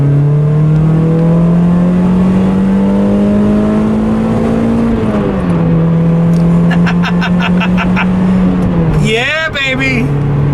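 Car engine revving hard at high RPM under acceleration, a steady loud drone climbing and pulling before a brief dip and a rising whine near the end, with a voice over it.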